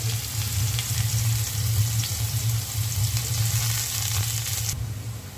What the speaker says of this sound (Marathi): आता हा कांदा टाकते, तेल गरम झालेलं आहे माझं।